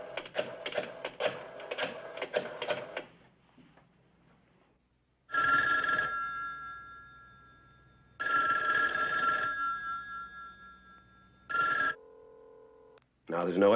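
Old-fashioned telephone bell ringing unanswered in a TV police drama scene, with several long ring bursts separated by pauses, loud and close, after a short stretch of talk at the start.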